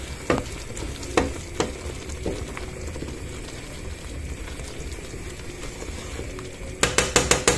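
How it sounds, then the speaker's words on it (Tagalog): Food being stirred and cooked in a pan at home, a steady low frying sizzle broken by a few sharp utensil clinks early on and a quick burst of scraping taps at the end; no talking. "Halo-haloin lang natin. Lutuin lang natin yung ano niya."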